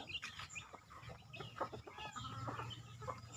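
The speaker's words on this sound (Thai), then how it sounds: "นี่อีกฝูงหนึ่งฝูงนี้มันเป็นไก่ปลาติดไก่บ้าน" Several chickens cluck and chatter softly nearby, with short overlapping calls over quiet background noise.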